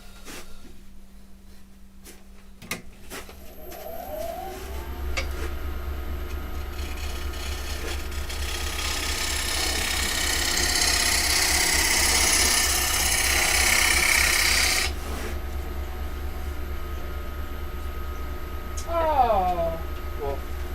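Woodturning on a lathe: a chisel cuts hard end grain as the spinning workpiece gives a steady, loud rumbling hiss that swells for about ten seconds, then drops away. Someone talks at the start and the end.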